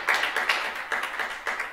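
An audience at a live German comedy show claps in a quick, uneven patter of hands, moderately close, rising and falling in short bursts with no voices over it.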